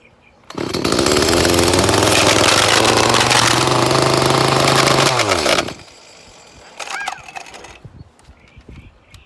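An Echo CS-352 chainsaw with a 16-inch bar starts and roars loudly at close range for about five seconds, then cuts out, leaving faint handling clatter and rustling.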